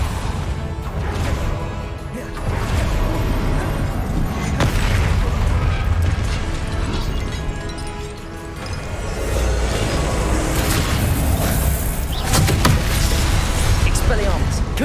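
Spell blasts and explosions in the Hogwarts Legacy video game: a dense, loud barrage of booming impacts and crashing bursts that runs continuously, with a brief dip partway through, while a voice talks over it.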